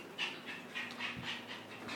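A dog pants in quick, rhythmic breaths, close by and moderately loud, with a faint low hum underneath and no talk.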